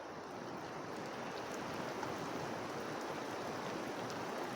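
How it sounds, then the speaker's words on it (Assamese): Rain falls steadily as a dense, even hiss of broad wash with no breaks, moderately distant and unaccompanied by voices. "বৰষুণ গিৰি আছে বৰষুণ"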